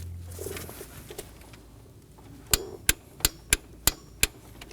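A torque wrench tightens the knock sensor on a 2018-2024 Chevrolet Equinox 1.5L four-cylinder engine, after quiet handling noise giving six sharp, evenly spaced clicks near the end.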